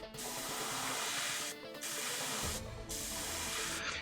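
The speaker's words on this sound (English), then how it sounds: "we're going to hold this upside down and spray hitting the top" Airbrush or spray paint hissing onto the helmet of an Eldar Skyrunner miniature, held upside down so the paint hits the top, in three steady bursts broken by short pauses, close and fairly loud, with no voices.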